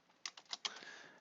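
Quiet keystrokes on a computer keyboard while entering web design code: about five light, irregular clicks in quick succession, close and faint, with no talk.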